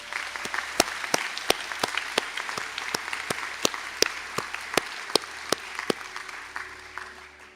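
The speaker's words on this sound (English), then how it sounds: "we'll receive our applause" Audience applause at a college conferring ceremony, a steady patter of clapping from a moderately distant crowd with sharp individual claps standing out, continuing alone before tapering off.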